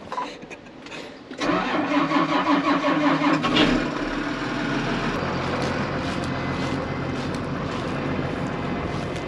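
A tractor engine on a hay-hauling farm cranks briefly, catches and revs up loudly, then settles into a steady rumbling idle close by.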